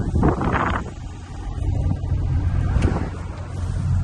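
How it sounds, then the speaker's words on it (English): A car passes by on the road, its tyre and engine noise swelling from faint to a broad rushing hum partway through, with light wind noise and no talk. "The obligatory car going by just when I'm filming, always happens."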